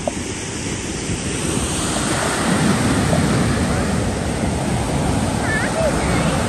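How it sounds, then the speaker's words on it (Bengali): Ocean surf rolls onto Negombo Beach in Sri Lanka in a continuous loud wash, with wind buffeting the microphone and a faint voice or two in the background. "পানির যে সুন্দর শব্দ"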